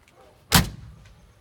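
The window flipper on a 1957 Chevrolet Bel Air two-door hardtop drops into place with one close, sharp thud, followed by quiet.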